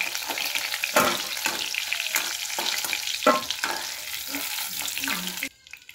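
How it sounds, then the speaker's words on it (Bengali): Chicken pieces for chilli chicken frying in hot oil, a loud steady crackling sizzle with a few sharper pops, cutting off abruptly near the end to near silence. "এরকম করে সবগুলো আমি ভেজে নেব।"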